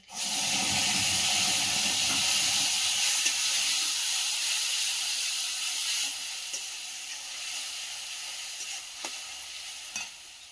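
Tomato, ginger and green chili paste frying in a pan with bay leaf, a loud steady sizzle and hiss that gradually softens, with occasional stirring clinks near the end.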